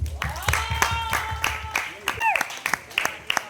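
Rhythmic audience clapping at a drama opening ceremony, crisp, evenly spaced claps that continue while a voice talks over them partway through.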